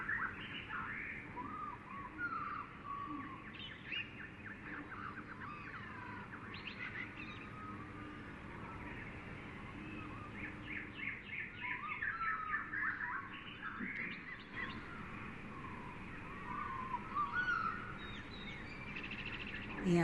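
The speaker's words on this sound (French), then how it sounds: "une petite ravine où poussent les bananiers au son du chant des oiseaux" Several birds chirp and sing in a small ravine where banana plants grow in Capesterre-Belle-Eau, Guadeloupe, a steady, moderately distant chorus of tweets and calls over a soft background hum.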